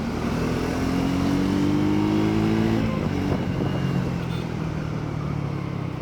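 A Triumph Speed 400 motorcycle with a 350cc-class engine is ridden with a loud, steady engine drone. It climbs in pitch under acceleration, then eases and shifts, heard close alongside wind rush.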